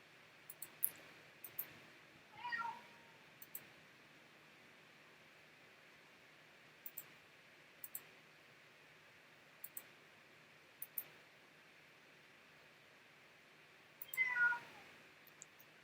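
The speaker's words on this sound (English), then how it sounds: "And my cat is yowling." A cat yowls indoors twice, one drawn-out cry early and another near the end, with scattered sharp clicks in between and a quiet background otherwise.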